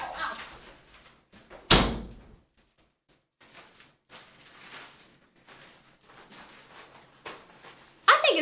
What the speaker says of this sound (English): I'm gonna try shutting the door too.